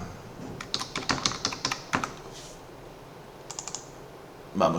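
Computer keyboard typing in quick bursts of close, crisp key clicks as a company name is entered, then a pause and a few more taps, with a louder clack at the end.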